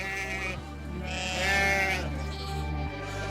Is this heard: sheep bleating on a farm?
yes